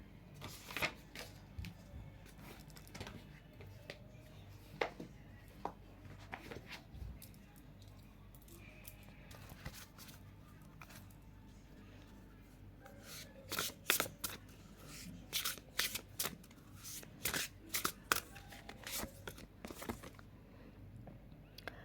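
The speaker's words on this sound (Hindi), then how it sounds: "और एक डेक से मैं कुछ ऑरेकल कार्ड निकालूंगी।" A deck of oracle cards being shuffled up close, with soft riffling at first, then denser bursts of sharp flicking and snapping cards in quick clusters, and no one speaking.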